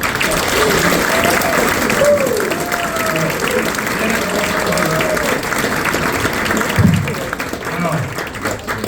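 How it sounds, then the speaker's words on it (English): Loud, steady audience applause greets a comedian taking the stage at a stand-up show in Canada, dense clapping filling the room with a few whoops over the top. "Thank you very much for that authentic applause."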